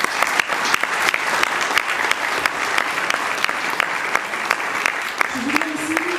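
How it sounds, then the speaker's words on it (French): An audience at a political programme presentation in Vence applauds Simone Chatbeck: sustained, dense clapping from a room of people, steady throughout, with a voice briefly heard near the end. "Je vous demande d'applaudir Simone Chatbeck."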